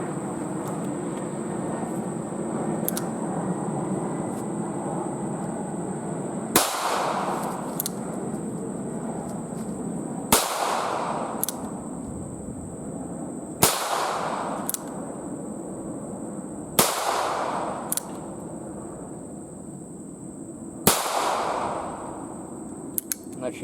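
An 1895 Nagant revolver fires seven rounds outdoors, each a sharp loud crack spaced a few seconds apart, over a steady background hum.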